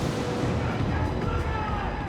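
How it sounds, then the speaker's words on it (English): Dense, continuous rumbling cannon fire from French and Spanish warships at the Battle of Trafalgar, a loud, churning barrage of overlapping booms with no pauses. "Nelson and Victory were at huge risk from hundreds of French and Spanish cannons firing"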